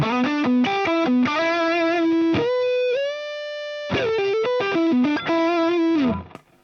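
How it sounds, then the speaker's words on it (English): Electric guitar through a Zen Drive overdrive model on an Axe-Fx, playing a distorted melodic lead line with quick note changes, a long sustained held note in the middle, then more phrases before fading out; no talking. "that kind of controls the amount of sizzle that you're getting back through from the Zen Drive"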